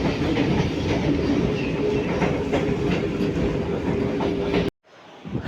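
A Vande Bharat train on the Srinagar–Katra line runs along the rails, heard from inside as a steady loud rumble with rhythmic clickety-clack and a faint whine, ending in sudden near-silence.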